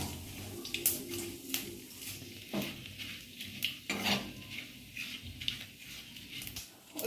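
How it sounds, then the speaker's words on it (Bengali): Whole garam masala, bay leaves and cumin seeds are lightly fried in a pan for Kashmiri aloo dum, with a soft sizzle under repeated clinks and scrapes of a spoon against the pan. No one speaks. "গোটা গরম মশলা তেজপাতা আর গোটা জিরে ছিল এগুলো সব দিয়ে পরে হালকা একটু ভেজে নেবো"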